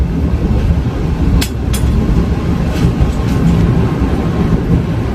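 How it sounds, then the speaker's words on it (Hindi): The Vande Bharat Express pulls into Shri Mata Vaishno Devi Katra station with a loud, continuous low rumble, a few sharp clanks and squeals partway through, and no voices. "तो ट्रेन अपनी एंट्री ले चुकी है श्री माता वैष्णो देवी कटरा"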